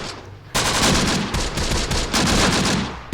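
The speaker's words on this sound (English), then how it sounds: "This 30 cal team is still doing great, guys. Still firing away." A .30 cal machine gun team firing in Close Combat: The Bloody First, a WWII strategy game set in a night battle of Operation Husky, heard as loud, dense sustained bursts of automatic gunfire after a brief quieter start.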